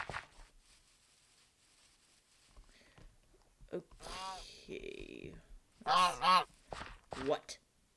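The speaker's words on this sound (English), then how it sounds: "Yes, I hear you, ducks. Or geese, whatever you are." Several loud, nasal honks from geese in the video game Afterlife: Life As A Truffle come in bursts after a quiet start, some in quick pairs, with low rustling between.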